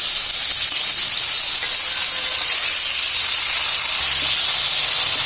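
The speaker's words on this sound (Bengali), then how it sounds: "আর সর্ষেগুলো দেখুন ফুটতেছে, সর্ষে ভাজা হয়ে গেছে। মা এখন আমগুলো ছেড়ে দিচ্ছে।" Mango pieces hit hot oil with spluttering mustard seeds, producing a loud, close, continuous hiss and sizzle that stays steady throughout.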